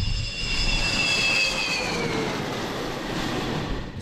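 Military aircraft engines roar steadily at Khmeimim air base in Syria, a loud, continuous jet rumble with a rising whine throughout, no voices.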